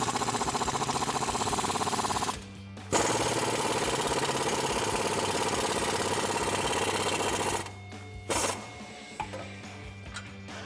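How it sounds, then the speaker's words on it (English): Sockets drive down the shock bolts on a Dodge Challenger R/T suspension, a loud, rapid buzzing rattle of a powered tool running in long bursts with brief pauses, then shorter stops near the end. "Grab the nut, thread it on by hand, and we'll take our sockets and tighten them both down."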